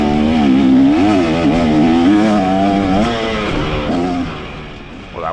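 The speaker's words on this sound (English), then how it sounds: "I don't need third gear, I just need to twist the throttle" A dirt motorcycle on a track with the throttle twisted, a loud close engine drone that rises and wavers in pitch through sustained revving, then eases off near the end.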